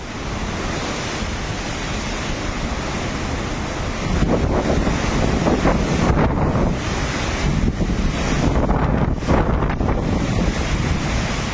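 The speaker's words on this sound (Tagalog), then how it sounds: "malakas na hangin at ulan ang naranasan sa mga bayan ng Ivana at Basco" Strong typhoon wind roars continuously into the microphone in Batanes, with a heavy rushing wash of driving rain, growing louder midway.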